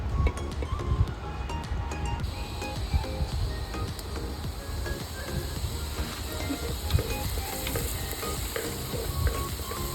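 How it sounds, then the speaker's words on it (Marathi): Masala paste sautéing in hot oil for a chicken sukka cooked over a wood-fired stove, a dense continuous sizzle and crackle with busy scraping and stirring throughout, close and steady, no voices. "आपल्याला हे वाटण ह्यामध्ये परतायचं आहे तेलात"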